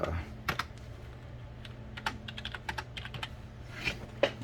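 Fingers typing on a computer keyboard beside a cryptocurrency mining rig, quick irregular clicks and taps close by over a steady low electrical hum from the machine.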